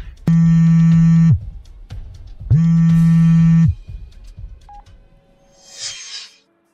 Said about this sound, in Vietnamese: Để tôi xem có phải gọi cho 100860.